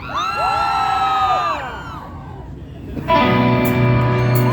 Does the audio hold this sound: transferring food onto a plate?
no